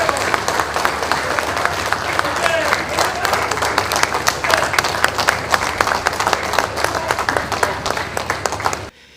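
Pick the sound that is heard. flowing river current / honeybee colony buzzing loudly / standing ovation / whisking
standing ovation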